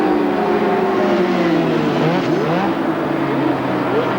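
Superbike racing motorcycles, including Honda, Kawasaki and Yamaha machines, roaring around Oran Park circuit, loud continuous engine whine with pitch rising and falling as bikes accelerate and pass.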